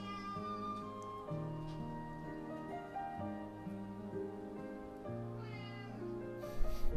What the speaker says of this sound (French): Et là, il va miauler contre le mur.